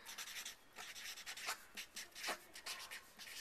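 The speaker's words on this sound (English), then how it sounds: "So I'm going to put that on the paper." Quiet scratching of a pen moving across paper in short strokes, close to the microphone, with no voices.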